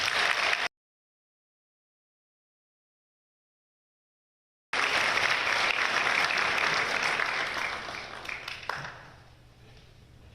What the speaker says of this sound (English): let's go ahead and give them all an initial round of applause